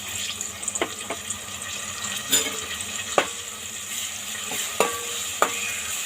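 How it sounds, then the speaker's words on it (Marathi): Ginger-garlic paste and spices fry in oil in a home kitchen pan, a soft steady sizzle broken by a few sharp spoon taps and scraping stirs against the pan. "हे पूर्ण तेल सुटेसपर्यंत हे मसाले परतून घेऊया"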